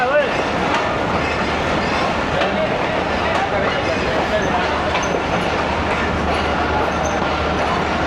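The Pak Business Express, a premium Lahore-to-Karachi train with a mixed rake of new and old economy coaches, rumbles along the rails with steady clatter and occasional wheel squeal, while people talk over the noise.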